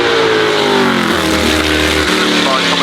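A 2012 race car with a 5.2-litre V10 accelerates uphill, its engine note loud and close, rising steadily as it pulls through the gears at a motorsport hillclimb. People can be heard talking under the engine.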